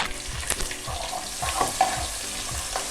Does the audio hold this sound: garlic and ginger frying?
yes